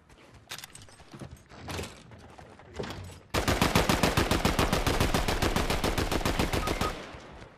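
Fortnite gunfire: a few scattered single shots, then a long rapid automatic burst of evenly spaced, loud, close shots lasting several seconds.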